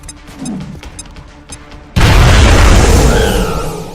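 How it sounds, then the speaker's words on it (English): A grenade detonates in the XCOM: Enemy Within video game, a sudden loud booming blast that follows a few quieter clicks and rumbles and then rolls on with a dense, decaying crackle of debris. "Grenade out."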